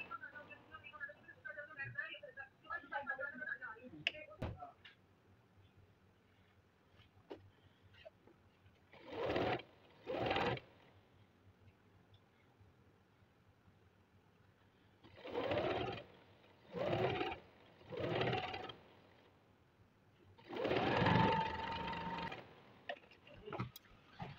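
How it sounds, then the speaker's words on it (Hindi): A sewing machine runs straight stitches along the half-inch folded waistband casing of a Pakistani salwar in three separate groups of short whirring bursts. Quiet handling sounds fill the gaps, and a voice speaks softly at the start. "नीचे से कपड़े को हाफ हाफ इंच फोल्ड करते हुए सीधी स्ट्रेट सिलाइयाँ लगाते जाएंगे"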